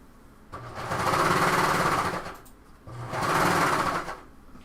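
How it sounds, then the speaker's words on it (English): A small serger sewing machine runs in two bursts of rapid, even stitching, each lasting about a second and a half, with a short pause between them, heard close and alone. "I love this little serger."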